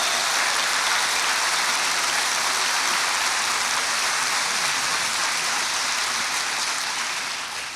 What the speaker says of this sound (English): on behalf of Pope Francis, thank you for that applause.